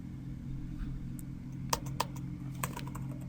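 Code typed on a computer keyboard: a quiet, sparse series of individual key clicks, a few spaced taps bunched in the second half, over a low steady room hum with no speech.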